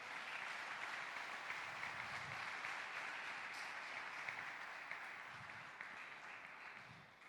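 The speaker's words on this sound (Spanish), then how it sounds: "Dele un fuerte aplauso al Señor por eso." A church congregation claps steadily and warmly for several seconds, a dense sustained wash of applause heard from a slight distance with no speech over it.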